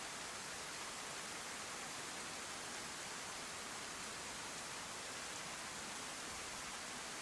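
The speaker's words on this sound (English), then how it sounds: "We've got the cover of the rain and the mist." Rain in the video game DayZ falling steadily, a soft, even hiss of dense rainfall with no distinct drops or voices, faint and unchanging throughout.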